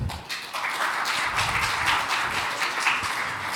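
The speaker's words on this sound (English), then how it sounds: "Can we give them a warm round of applause?" Conference audience applauding speakers at a security event, a dense, steady wash of many hands clapping throughout, fairly loud and close with no talk over it.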